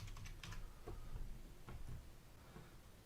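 Typing on a computer keyboard, a quick run of soft clicks and taps at an uneven pace, faint and close, with no voices.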